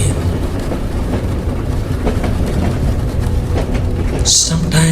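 A train travels through snowy Switzerland beside a river, with a loud, continuous rumble and repeated rail clicks throughout, and a soft voice briefly audible.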